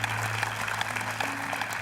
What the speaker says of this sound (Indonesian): Kalau gitu tepuk tangan dulu buat Jessica dong